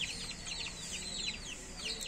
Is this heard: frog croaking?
no